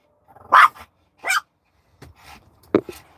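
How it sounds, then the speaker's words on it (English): A dog passing by outdoors gives a couple of sharp barks followed by softer yips and noises, fairly close and loud, with no talking. "there's one of those DOGs going by."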